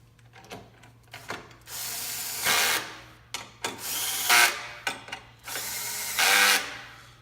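During assembly of a grinder, bolts are run in with a power driver in three loud whirring bursts, separated by scattered clicks and clunks of parts being handled close by.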